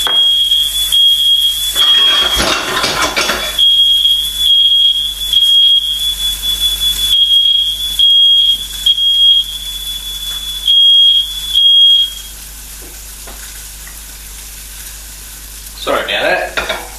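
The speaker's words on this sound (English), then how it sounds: "there goes me bloody smoke alarm" A kitchen smoke alarm beeps in a rapid, shrill, intermittent pattern while lamb shanks fry and sizzle loudly in a pan, the alarm stopping after about twelve seconds as the sizzling continues.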